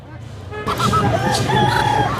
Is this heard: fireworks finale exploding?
no